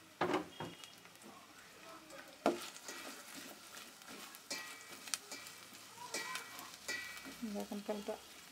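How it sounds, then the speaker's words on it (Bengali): Chopped onions frying in hot oil while being stirred, a quiet crackling sizzle broken by scraping and clinking strokes of the spoon at irregular intervals. "তেলটা গরম হয়ে গেছে, আমরা এখন পেঁয়াজ কুচিটা দিয়ে দিচ্ছি।"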